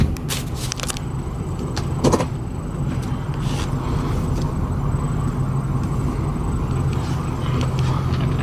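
A 2004 Ford F350 Super Duty dually Lariat pickup with a Powerstroke diesel engine rumbles steadily from inside the cab as it is moved, its low engine drone continuous, with a few clicks and knocks near the start.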